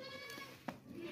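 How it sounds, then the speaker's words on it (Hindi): A goat bleats once, short and faint, with a quiet wavering voice at a goat pen where nannies and long-eared kids are kept. "ये देखें खूबसूरत बकरी है और बच्चे भी हैं"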